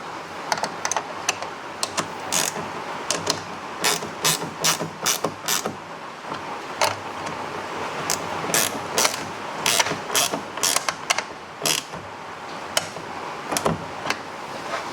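A ratchet clicks in quick bursts while bolts are snugged up on a Class B motorhome's sewer valve, crisp close ratcheting strokes repeating irregularly over quiet background.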